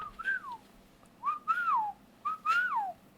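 A person whistles to imitate whistling heard from the edge of the woods, three rising and falling whistled notes spaced evenly apart, clear and close over a quiet background.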